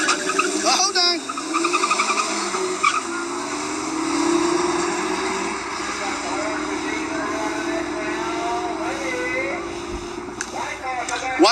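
Race cars at a drag-style shootout pass with a loud engine whine and rising roar, heard over steady crowd noise and nearby chatter for the whole stretch.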